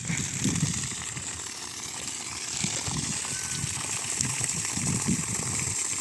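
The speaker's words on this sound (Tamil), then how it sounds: "அது ஃபுல் ப்ரெஷராக வந்துட்டு நல்லா ஒரு ரெண்டு அடி தள்ளி நல்லா தண்ணி ஊற்றிட்டுருக்கு" Water gushes hard and steadily from a 1.25-inch delivery pipe of a 3 HP solar borewell pump drawing from 300 feet, a dense continuous rushing splash with no pauses.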